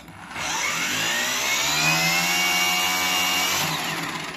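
A cordless battery-powered brush cutter switches on and runs with a steady, high-pitched motor whine that rises quickly and holds at a constant pitch for several seconds, loud and close, with no talking.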